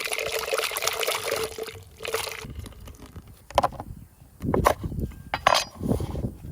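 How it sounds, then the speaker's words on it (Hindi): Water is poured into a thick, freshly ground masala paste for a clam and mango curry, giving soft close trickles and splashes with a few brief louder pours. "थोड़ा पानी मिलाएंगे इसमें"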